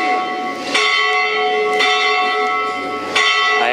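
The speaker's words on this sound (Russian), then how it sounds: "нет, это индуинский звонарь, и он звонит" A temple bell in Sri Lanka is struck by a bell ringer, giving three loud, close metallic strikes about a second apart, each ringing on with bright overlapping tones.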